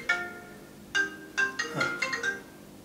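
A telephone ringtone plays a short melodic electronic tune in several spaced bursts, fairly quiet and alone with no talking over it.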